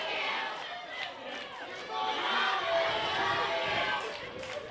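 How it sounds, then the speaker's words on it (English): Wrestling crowd at a Tri-State Wrestling show chanting at Carson Drake, a sustained roar of many voices filling the hall, steady and fairly loud throughout with chant-like swells. "I can't believe these things the crowd are chanting towards Carson Drake in regard to his own mother."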